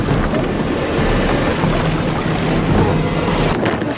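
Steady broadband rushing and churning of a boat turning around on water, with wind buffeting throughout and no voices.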